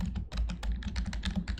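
Rapid, uneven keystrokes on a computer keyboard, clattering close and loud in a dense run of taps with no talking over them.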